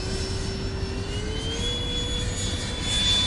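An RC model plane with an 89mm ducted fan flies at low throttle, producing a continuous, loud, whining jet-like hum whose pitch slowly rises.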